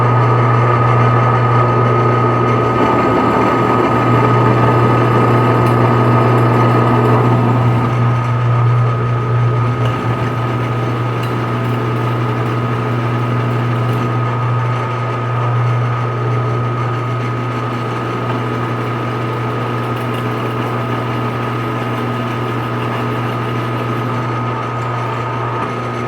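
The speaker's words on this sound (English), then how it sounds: "Just gonna try and drill enough of this away forever that you can slide it up from the bottom." Power drill grinding steadily into a stuck steel chainring bolt on a bicycle crank, a continuous loud droning hum with strong steady tones lasting the whole stretch, close up and without talk.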